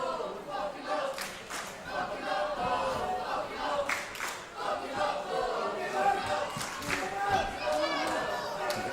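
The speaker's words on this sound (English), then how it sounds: "The crowd are in awe." Wrestling crowd at an Iron City Hardcore bloody hardcore match, a steady dense roar of voices and shouts with scattered claps and impacts, continuous and fairly loud throughout.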